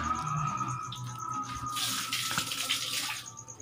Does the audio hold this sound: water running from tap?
yes